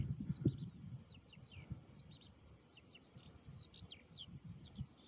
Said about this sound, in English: all these wee warblers started warbling.